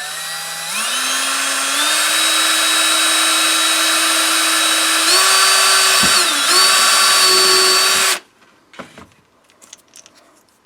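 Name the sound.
power drill with quarter inch bit drilling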